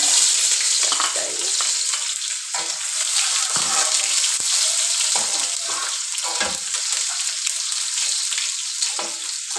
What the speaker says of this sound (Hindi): यहाँ पर हमारा घी अच्छी तरह गरम हो चुका है। अब हम इसमें प्याज ऐड करेंगे।